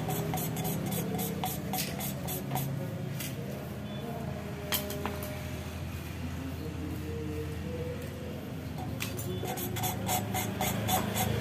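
An engine valve is hand-lapped against its seat, giving a steady, close gritty rubbing with short rhythmic rasping strokes and occasional light clicks.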